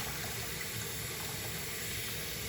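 Water runs steadily while rice is rinsed in a kitchen before it goes into a rice cooker, a continuous even hiss and splash with no talking.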